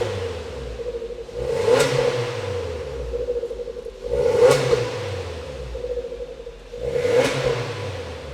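A modified Suzuki Jimny with a 1.5-litre four-cylinder engine and aftermarket exhaust revs three times, each rise swelling to a loud throaty peak before falling back to a steady idle drone.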